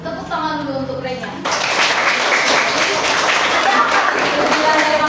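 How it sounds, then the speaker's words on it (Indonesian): A classroom of fifth-grade primary school pupils breaks into sustained applause and clapping after a teacher speaks, the dense clapping filling most of the clip at close range. "tepuk tangan dulu untuk Renya."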